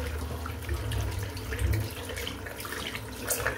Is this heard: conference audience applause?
no